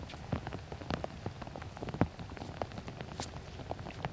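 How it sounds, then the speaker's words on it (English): Heavy, drenching rain pattering on surfaces at a disc golf course during a tournament round, a dense steady spatter of close drops with no voices. "that's drenching rain right there"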